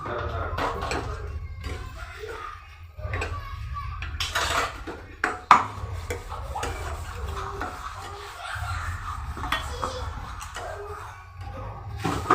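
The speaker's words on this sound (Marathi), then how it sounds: "सारखं हलवत राहायचं आणि गॅस मंद गॅसवरच भाजायचा" Moong dal halwa is stirred and roasted in a pan over a low gas flame, the spoon scraping and clinking against the metal in irregular strokes, with someone talking over it and a steady low hum beneath.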